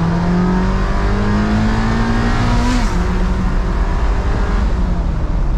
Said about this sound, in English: I'll show you a second to third shift